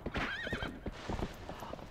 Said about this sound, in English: Oh my gosh, this horse.